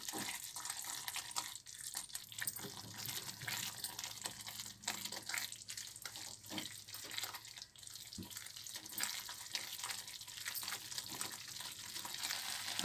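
Milk and coconut barfi mixture stirred in a pan, giving a continuous soft sizzling, scraping texture that stays steady and close throughout with no talking.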